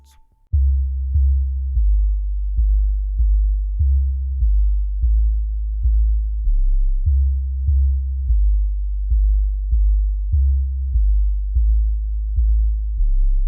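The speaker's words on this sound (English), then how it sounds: "So I just finished the legendary 808, and this is how it sounds." Deep 808 sub bass notes pulse in a steady rhythm after a brief blip, booming low tones repeating loudly one after another with no talking.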